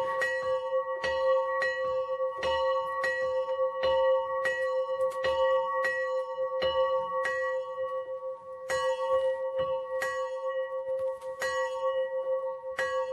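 A large old church bell in Wrocław rings in steady, regular strikes about every half second, each clear metallic clang ringing on with a long sustained hum, close and prominent with no talking.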